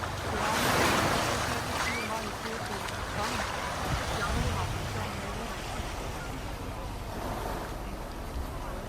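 Sea waves wash onto a beach at Phuket, a steady broadband surf roar with gusting wind noise, and voices talk over it throughout.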